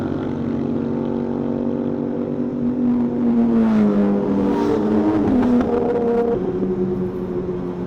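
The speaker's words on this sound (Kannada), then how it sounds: "ಇವಾಗ ಫ್ಲೈ ಬೈ ಹೋಯ್ತು ಗೊತ್ತಾ, ಸೂಪರ್ ಬೈಕ್ಸ್" Several superbikes fly past on a road, their engines rising into a loud revving whine and sweeping pitch as they pass close by, heard over steady motorcycle engine and wind drone from a rider with visor closed.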